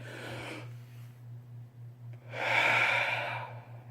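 A person takes a deep breath, ending in a long, audible breathy exhale, close and moderately loud over a steady low hum.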